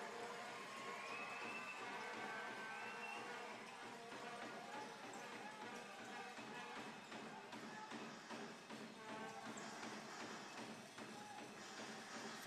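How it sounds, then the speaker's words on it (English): Basketball arena crowd at a men's grand final game between the Heat and the Marlins, a dense, steady roar of cheering with scattered squeaks and footfalls, sustained at an even level throughout. "Crowd's engaged."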